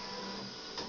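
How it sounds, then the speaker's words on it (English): A 3D printer partway through a long print hums and whirs steadily and faintly, a constant mechanical drone with a small bump at the very end. "I'm printing something. This is my 3D printer here."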